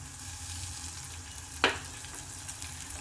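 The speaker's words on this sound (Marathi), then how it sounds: "थोडस ह्याच्यात परतूया" Ground masala paste sautéing in a vegetable dish, a steady close sizzle with one sharp scrape or clink of a utensil partway through, no voices.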